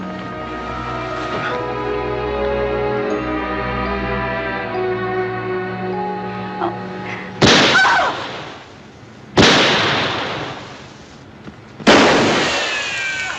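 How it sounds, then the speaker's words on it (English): Three sharp gunshots ring out in a Western TV drama, each a loud crack with a decaying echo, spaced about two seconds apart after a stretch of orchestral music. "What's all the shooting about?"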